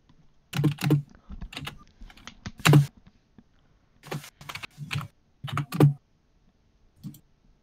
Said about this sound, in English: Oh, you stopped typing.